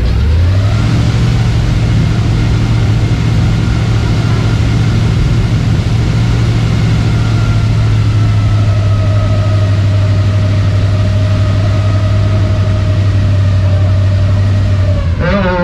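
Safari park vehicle driving deeper into the jungle at Serengeti Park: a steady, loud engine drone throughout, holding a constant low tone with a faint rising whine in the second half, no talking.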